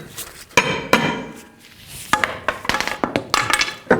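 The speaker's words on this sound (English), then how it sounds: "You can give it a couple taps from the back side and then rotate it." A hammer raps the back of a stuck brake rotor on a 2012–16 Honda CR-V rear hub. Sharp metallic taps come in small clusters with short pauses between them, close and fairly loud, with no talk.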